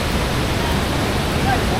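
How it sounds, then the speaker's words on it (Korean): The great Yonglong waterfall, about 240 metres high, roars in a mountain gorge in Guangdong, a dense broadband rush that stays steady and loud throughout. "대폭포 용룡 대폭포입니다 폭포 높이만 약 240m"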